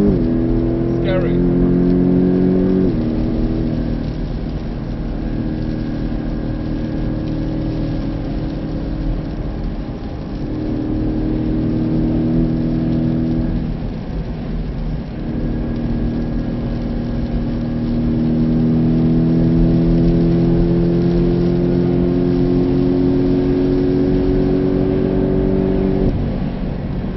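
Race car lapping the wet Nurburgring, heard from inside as a loud continuous engine roar that rises with acceleration through repeated gear changes and drops at braking, steady throughout with road and rain noise beneath.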